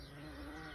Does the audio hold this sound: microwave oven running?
no